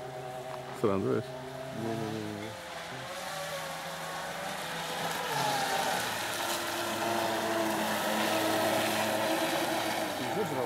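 Small RC catamaran boat motor, the Dragon Fighter model, running at full throttle on a lake, a steady whining drone that builds and holds loud through the clip, with people talking briefly near the start.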